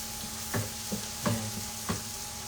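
Garlic frying in a pan, a steady low sizzle broken by a few soft, evenly spaced scraping stirs, close and fairly quiet.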